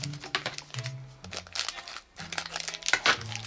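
A plastic blind-bag packet from a Lost Kitties cat toy is torn open and crinkled up close, with crisp rustling bursts and brief pauses, while a low voice murmurs in the background.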